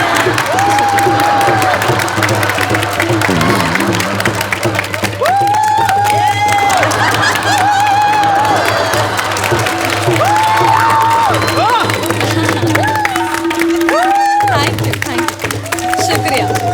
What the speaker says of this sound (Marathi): अहो हे खूप झाला टाळ्या.